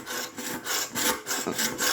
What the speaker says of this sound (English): think this is the way to sharpen your knives